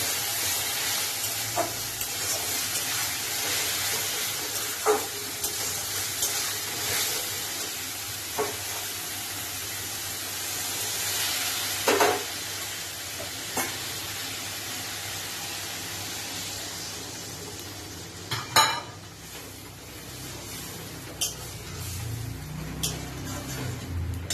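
Spice paste for katla fish kalia frying in a pan, a steady broad sizzle running throughout, with occasional clinks and scrapes of stirring.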